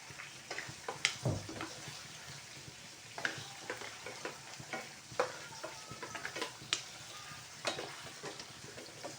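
Chicken kaldereta with carrots being stirred in a pan, a spoon scraping and clacking in irregular strokes over a soft bubbling sizzle, close up, with no voices.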